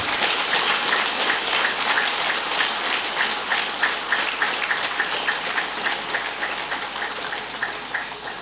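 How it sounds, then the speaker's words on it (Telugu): An audience at a meditation gathering claps loudly and continuously, a dense roar of hand claps that holds steady and fades slightly toward the end, with no talking. "ఇక్కడ ఎవరు ఏడ్చేవాళ్ళు చెప్తే చప్పట్లు కొడతాం, గట్టిగా చప్పట్లు కొడతాం."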